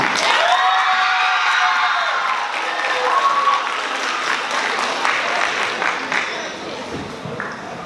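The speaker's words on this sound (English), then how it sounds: "Round of applause for Kyla." An audience applauds and cheers for a speaker at a Year 8 debate tournament final, a loud, dense wash of clapping with whoops and shouts that holds steady for several seconds before thinning slightly.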